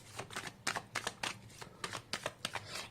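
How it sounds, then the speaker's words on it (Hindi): Cards are shuffled by hand close up, a steady run of soft riffling flutters and light slaps repeating every fraction of a second, fairly quiet and alone. "कार्ड्स हालांकि मैं शफल कर लेती हूँ पहले से ही, बट आपकी तसल्ली के लिए फिर से कर लेती हूँ"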